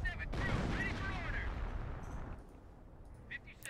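A Hummel self-propelled artillery gun fires in the Company of Heroes strategy game, a heavy blast with a rolling boom that fades over a few seconds, with faint chirps of game effects afterward.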